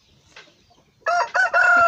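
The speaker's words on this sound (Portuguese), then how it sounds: "fico triste com essas galinhas que elas passam, os pintinhos passam por debaixo" Backyard chickens near a garden, with a rooster crowing loudly and close by in two or three drawn-out bursts after a moment of soft clucking.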